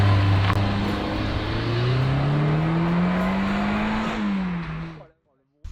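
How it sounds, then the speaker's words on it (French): A Renault 19 16S naturally aspirated engine revs hard beyond 4000 rpm, its loud steady note climbing in pitch for about four seconds, dipping slightly, then cutting off abruptly into silence. "une fois passé les 4000 tours minute, la sonorité fera comprendre que vous ne possédez pas n'importe quelle Renault"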